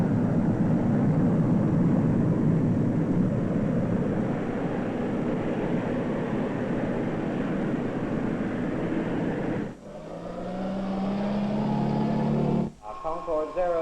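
Concorde 002 climbing steeply with reheat engaged: a loud, continuous broadband jet roar that fills the scene, broken near the end by radio voice transmissions with a hum beneath them.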